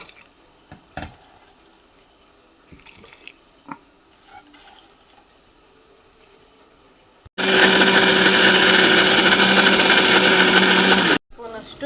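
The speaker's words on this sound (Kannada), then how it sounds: "ನಾವಿದೇನು ರೆಡಿ ಮಾಡ್ಕೊಂಡಿದ್ವಲ್ಲ ಇದನ್ನೆಲ್ಲ ಇಷ್ಟು ಮಿಕ್ಸಿಗೆ ಹಾಕೊಂಡು ಗ್ರೈಂಡ್ ಮಾಡ್ಕೋಬೇಕು" A kitchen mixer grinder blending prepared ingredients for chicken sambar bursts on loudly for about four seconds as a steady whirring drone, then cuts off abruptly after quieter clinks and handling noises.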